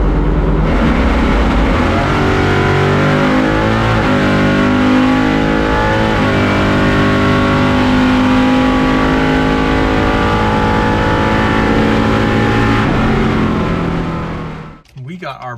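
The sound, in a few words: 700HP Chevrolet C10 drag racing pass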